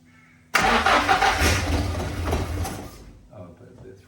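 An engine left unused for 20 years roars loudly when run up, holding a rough, throaty revving for about two and a half seconds before dropping back to a quieter idle as voices murmur faintly.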